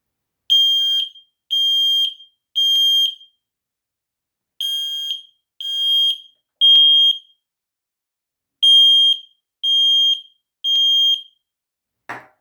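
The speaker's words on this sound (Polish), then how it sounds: "czujnik wykrył nam dym, wykrył zagrożenie, uruchomił się alarm" A Technisat Smoke Sensor 2 WiFi smoke detector sounds its loud, shrill alarm in repeated groups of three piercing beeps separated by short silences.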